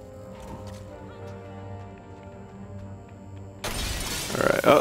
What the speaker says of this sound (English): I think they're gonna break the glass now